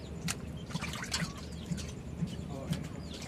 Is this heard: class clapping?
no